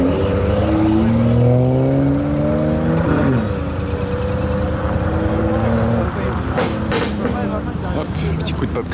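A Japanese Datsun car engine idles and revs at a car show, with rising and falling engine tones over a steady rumble, fairly close, and people talking throughout.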